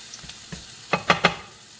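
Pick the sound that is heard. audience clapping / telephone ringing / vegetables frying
vegetables frying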